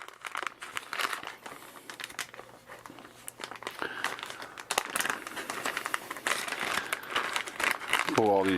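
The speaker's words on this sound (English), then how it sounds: "Pull all these baggies out here, and just laying in the bag" Plastic baggies crinkling and rustling up close as they are pulled from the box of a be quiet! Pure Loop 240mm all-in-one water cooler, a continuous busy crackle with sharper snaps.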